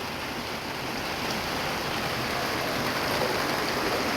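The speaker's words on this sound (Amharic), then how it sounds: "ዝናብ ጀምሯል" Steady rain falling during the rainy season, a dense even hiss with no pauses or voices.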